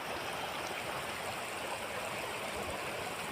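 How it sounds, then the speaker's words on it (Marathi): Steady rushing water fills the scene, a broad continuous roar of a swollen, flooded stream near Kopargaon flowing without pause or voices. "या मळेनाळला फुल पाणी आलेलं आहे"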